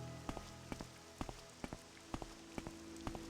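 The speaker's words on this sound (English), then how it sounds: "Ugh, it's raining." Rain falling in the video game Morrowind, a steady patter with sharp droplet ticks recurring every half second or so over a soft, continuous hiss, fairly quiet and with no talking.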